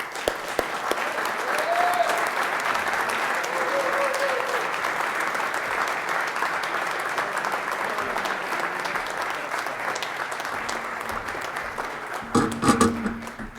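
An audience applauds award winners at the Charles H. Dow Award ceremony, steady dense clapping for about twelve seconds that thins out at the end, with a voice faintly beneath.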